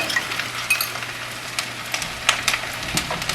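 Pad Thai sauce poured onto noodles in a hot pan sets off a steady, close sizzle, with crackling spatters and light stirring scrapes throughout and no voices.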